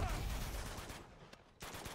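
Rapid bursts of gunfire in the video game Uncharted: Among Thieves aimed at a gas canister, a dense rattling volley that drops out briefly near the end before resuming.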